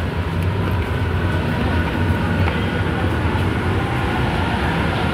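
A steady, loud rumble of an MRT metro train in motion in Manila, with continuous rolling noise and faint rail clatter throughout.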